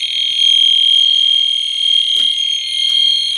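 A smoke detector sounds its alarm during a test, a loud, continuous high-pitched piercing tone held close for several seconds, with faint clicks partway through.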